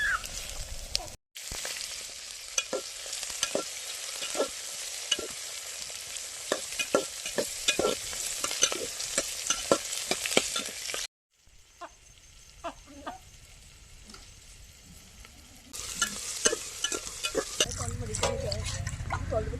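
Onions fry with a steady sizzle in a pan for village-style country chicken biryani, with repeated spatula scrapes and taps as they are stirred. The frying drops quieter for a stretch, and a chicken clucks faintly in the background.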